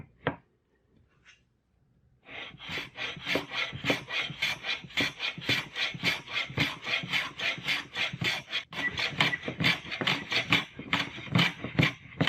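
A hand file rasps a 45-degree chamfer along a wooden edge, opening with a few faint scrapes, then a long run of quick, rhythmic back-and-forth strokes, close and clear, with no talking.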